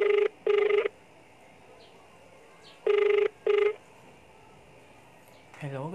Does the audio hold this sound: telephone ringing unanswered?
yes